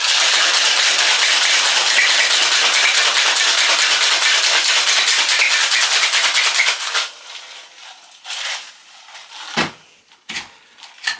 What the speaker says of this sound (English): we will now put it all together and shake